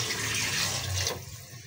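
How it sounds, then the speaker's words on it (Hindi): Water runs in a steady rush into a cooking pot of browned mutton for pulao, loud and close for about a second before cutting off and leaving a faint hiss. "पानी ऐड करेंगे, तकरीबन"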